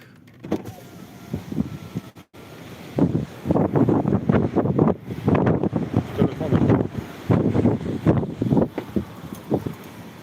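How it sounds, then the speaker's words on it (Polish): Strong wind buffeting a parked car beside a bay, heavy gusty rumbles and bursts of wind noise against the body and microphone, loud and irregular, heard from inside the vehicle. "Mega wieje."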